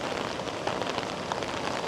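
Steady rain falls in Manila during an evening walk, a dense even hiss of drops on hard surfaces that continues without a break for the whole moment.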